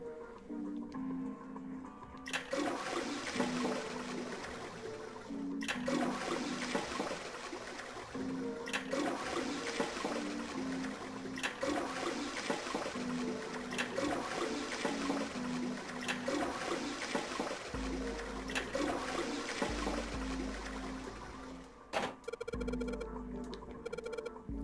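A toilet flushes over and over in the video game 999: Nine Hours, Nine Persons, Nine Doors, each loud rushing burst of water followed by a draining gurgle, repeating about every three seconds with no talk.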